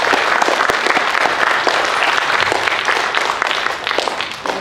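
Sustained audience applause fills a school assembly hall, steady dense clapping at close range that carries on for several seconds and tapers slightly toward the end.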